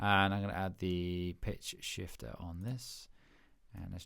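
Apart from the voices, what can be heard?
None of the usual background noises is heard.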